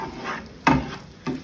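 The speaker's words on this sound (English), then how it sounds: "just keep mixing it in together. Get all your sauce mixed up. And it can cook for several minutes on the stove." Sauce is stirred in a pan on the stove, giving a soft bubbling sizzle punctuated by two quick scraping strokes of the spoon against the pan.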